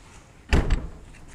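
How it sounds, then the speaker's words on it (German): A wooden chicken coop door swings shut with a single solid thud and a short rattling follow-up, close and loud against a quiet background. "Und wenn ich jetzt mal die Tür zumache"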